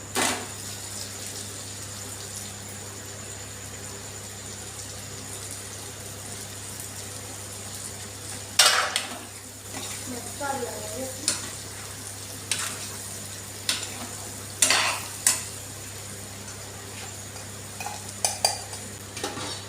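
Fried potatoes and spices are stirred in a pan over a faint steady cooking hiss, with intermittent scraping and clinking of a utensil against the pan that grows more frequent toward the end.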